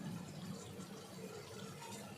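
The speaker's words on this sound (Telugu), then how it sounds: "ఇప్పుడు ఇందులో చింతపండు పులుసు పోసుకుందాం" Tamarind juice poured into a cooking pot, a steady soft liquid splash and gurgle running continuously throughout at low level, with no talking.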